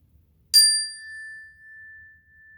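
A single chime is struck once, a bright metallic ring with clear overtones that rises sharply and then fades slowly over a couple of seconds in a quiet room.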